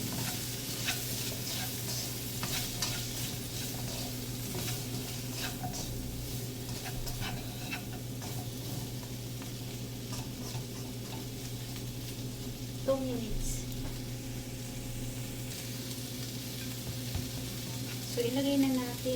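Asparagus and shrimp stir-frying in a pan, a continuous sizzle with repeated scraping and tossing of the spatula, a voice speaking now and then over the cooking.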